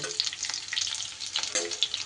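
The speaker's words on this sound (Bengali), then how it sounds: "আলুগুলো সুন্দর করে একটু লাল লাল করে ভেজে নিল" Long-cut potato strips fry in hot oil, giving a faint, steady sizzle with light crackles and no talk.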